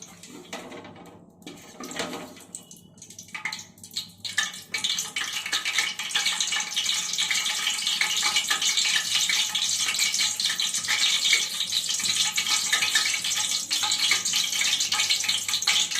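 Ghee melting into hot oil in a pan hisses and sizzles, starting with a few scattered crackles and then settling into a steady, fairly loud sizzle. No one speaks.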